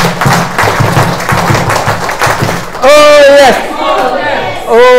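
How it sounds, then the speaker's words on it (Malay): An audience at a health product testimonial event claps and cheers in a dense burst for nearly three seconds, then a voice speaks loudly over fading crowd noise. "Sekali lagi tepukan untuk Healthyway."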